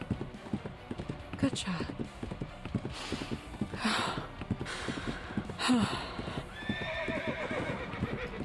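A horse gallops with a rapid, rhythmic clip-clop of hooves and several neighs and snorts, close and prominent, while people speak briefly over it.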